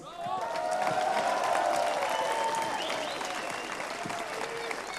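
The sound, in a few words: audience applause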